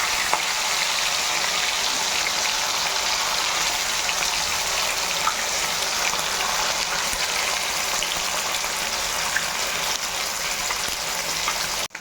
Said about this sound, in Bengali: ফাইনালি দেখো মাছ ভাজা কিন্তু আমার চলছে